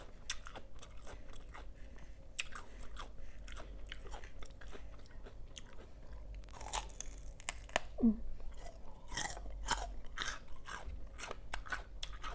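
A person chews crisp, crunchy fruit up close, with repeated short bites and crunches in an irregular rhythm. The fruit is the Thai cow-horn and buffalo-horn mango variety. The sound is quiet and close to the mic, with no talking.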